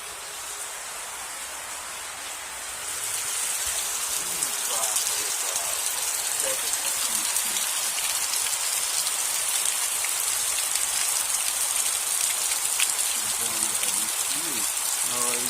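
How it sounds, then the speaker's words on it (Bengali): Steady rain pours down outdoors, a dense hiss of drops that swells after a few seconds and stays loud, with faint voices under it. "এদিকে বৃষ্টি হচ্ছে"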